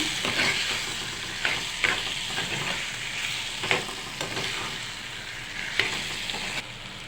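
Brinjal pieces fry in a pan with onion, ginger-garlic and tomato, giving a steady close sizzle with occasional sharp stir and scrape clicks, and no voices.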